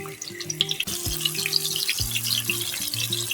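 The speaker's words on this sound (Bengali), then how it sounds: "এখন আমি এগুলি ভেজে নিব।" Stuffed bitter gourd (karela) fries in a pan with a steady crackling sizzle close by and bright spattering pops, along with occasional clinks and scraping of a utensil and no speech.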